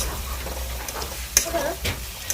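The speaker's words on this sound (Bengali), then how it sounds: "মাছটা ছেড়ে দিলাম মাছটা ছেড়ে এবার কষবো" Fish sautéing in a pan gives a loud, close, steady sizzle with a couple of sharp scraping stirs near the end, with no speech over it.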